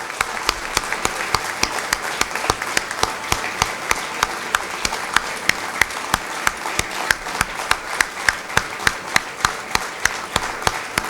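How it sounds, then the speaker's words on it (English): Audience at an MBA batch inauguration ceremony applauding steadily and loudly, a dense sustained wash of many hands clapping that continues throughout without pause. "Give them a big, long applause."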